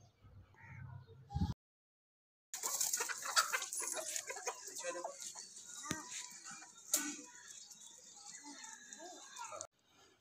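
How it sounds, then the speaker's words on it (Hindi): Hens on a backyard hen farm, clucking and fussing in a cluster at moderate distance, with a brief pause in the sound early on and a steady farmyard murmur throughout. "तो ये मुर्गियाँ आप देख सकते हैं बहुत प्यारी मुर्गियाँ"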